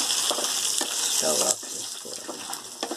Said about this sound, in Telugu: అందులోకి సరిపడా ఇంగువ వేసుకోవాలి. వేసుకొని వేయించుకోవాలి.